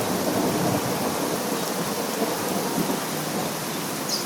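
Steady heavy rain pouring down with a continuous hiss, thunder rumbling underneath, no voices.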